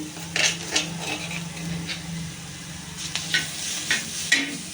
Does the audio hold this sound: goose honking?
no